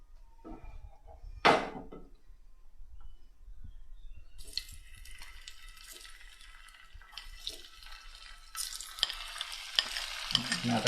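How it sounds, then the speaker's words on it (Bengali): Food deep-frying in oil, a quiet hiss that swells into a louder bubbling sizzle, with a sharp knock early on and clinks and stirring scrapes near the end. "তো আমরা এখন ডিপ ফ্রাই করে নিচ্ছি।"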